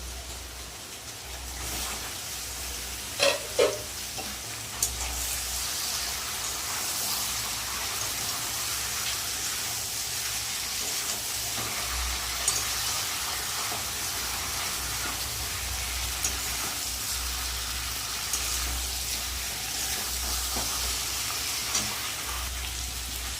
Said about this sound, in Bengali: এবার সিদ্ধ করা গাঠি কচু আর আলু দিয়ে দেবো